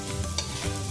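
Aloo paratha sizzling in Dalda ghee on a hot pan, a steady close crackle with a spoon or spatula scraping through it for about a second.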